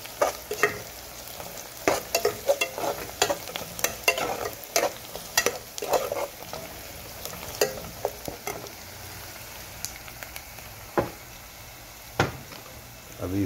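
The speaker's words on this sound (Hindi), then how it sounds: "दोस्तों हमारा प्याज गलने लगा है।" Onions sizzle steadily in a pan while being cooked for aloo palak, with frequent clattering stirs and scrapes of a spoon against the pan throughout, close and clear with no talk.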